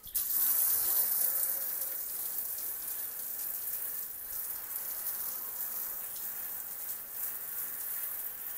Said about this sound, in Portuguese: Vou jogar uma água aqui nesses vidros aqui.